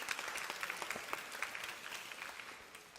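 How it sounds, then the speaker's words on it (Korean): Quiet, steady applause from a church youth group audience in Gunsan, dense clapping with scattered sharper claps that fades slightly toward the end, no voices over it. "우리 프로그 매주 수고하는데 박수 한번 부탁합니다"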